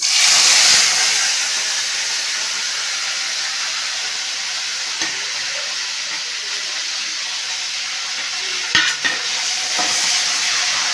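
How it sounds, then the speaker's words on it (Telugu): Dried prawns frying in well-heated oil for a prawn curry, a strong continuous sizzling hiss that flares loudest at first, then settles into a steady fry with a couple of clinks of a utensil near the end. "ఆయిల్ అనేది బాగా హీట్ అయింది. అలాగే ఇప్పుడు ఎండు రొయ్యలు అనేవి వేసేసుకుందామండి"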